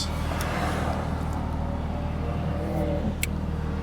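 A sports car's engine in PDK Sport mode with the sport exhaust open, droning steadily and loud from inside the cabin, a continuous low rumble with no clear rev spike.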